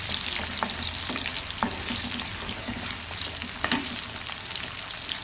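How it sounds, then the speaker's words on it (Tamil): Onions sautéing in a pan for chicken curry, a steady close sizzle with scattered light scrapes and stirring clicks as they are tossed around. "இந்த வெங்காயத்தை அதில் போட்டுடலாம். போட்டு லைட்டாக வதக்கிக்கலாம்."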